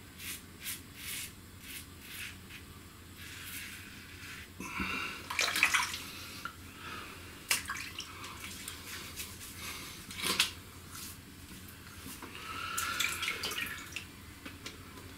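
Tap water runs and splashes intermittently during a face wash after a wet shave, with soft drips and a few brief louder gushes of water, close and fairly quiet.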